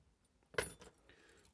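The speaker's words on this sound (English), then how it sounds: "I'm just using these little split rings to put the keys on with" Keys clink as they are worked onto small metal split rings, one bright jangle up close followed by a faint lingering metallic ring.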